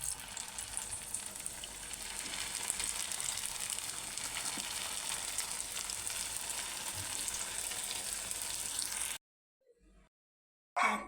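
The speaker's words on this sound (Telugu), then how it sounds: "సౌండ్స్ ఒక వినండి, ఎంత క్రిస్పీగా." Onion samosas sizzle and crackle steadily in hot frying oil, loud and close, with a dense continuous fizz that cuts off abruptly near the end, leaving a brief quiet gap before a short burst returns.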